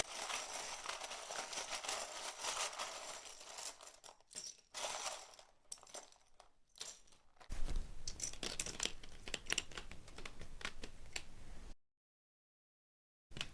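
Rapid riffling and slapping of tarot cards being shuffled close up, several bursts of rustling, then a moment of silence near the end.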